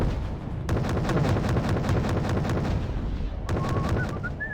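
Incoming artillery fire in Wargame: Red Dragon, a rapid, regular string of heavy booming impacts pounding over a dense rumble, briefly easing before a fresh volley bursts in near the end.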